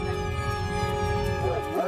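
A police dog whines and yelps excitedly, close by, over a constant engine hum from inside a vehicle.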